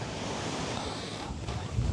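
Ocean waves surge onto a windy New Zealand shore near Shantytown, a steady close rush of surf mixed with wind buffeting the microphone, with no voices.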